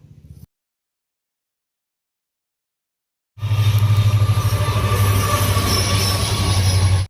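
A train roars past after a few seconds of near silence, loud and close, with a sustained low rumble, rattling wagons and squealing wheels until it cuts off.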